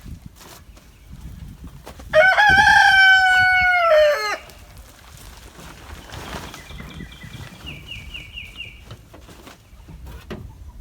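A hen penned alone in a larger coop lets out one loud, drawn-out crowing call close by, followed by quieter clucks and faint rustling.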